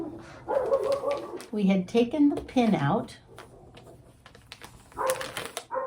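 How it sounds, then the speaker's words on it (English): A dog barks somewhere nearby during work with braid paper and a bobbin, a few short yips and barks mixed in among a person talking close by. "You can hear that dog barking."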